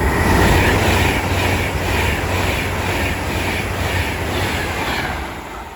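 A West Coast Class 390 Pendolino from London Euston to Birmingham New Street roaring through Watford Junction station at speed, a loud continuous rush with rhythmic wheel beats fading slightly toward the end.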